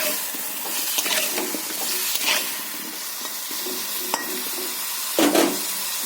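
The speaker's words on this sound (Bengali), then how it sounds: "হলুদ দিয়ে ভেজে নিচ্ছি" Bottle gourd and potato fry with turmeric in a pan, producing a steady close hiss of sizzling with occasional louder bursts of stirring and spattering, no voices.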